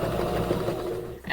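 A sewing machine stitches steadily around the boxed corners of a small fabric gift bag, a fast, even, close whirring hum that runs alone before stopping abruptly.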